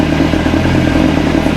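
A Porsche car engine runs close and loud, a steady mid-pitched rumble with a faint rattling texture throughout, alone with no talk over it.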